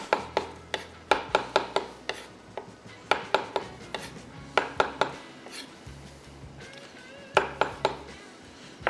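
A knife chops roughly on a board through sliced filling ingredients for wontons, with brisk, uneven bursts of close, sharp knocks and brief pauses between runs.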